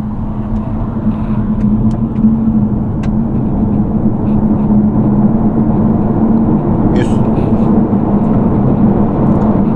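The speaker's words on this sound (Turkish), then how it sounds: "Motor sesine bayıldım arabanın." Electric Peugeot E-308 GT pulling hard from a standstill toward 100 km/h, heard from inside as a steady low motor hum with road and tire roar, constant and fairly loud throughout.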